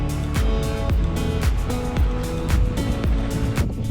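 Sailboat motoring slowly at low RPM into a narrow inlet, its engine giving a steady, loud, rhythmic low thumping putter close by, with no voices.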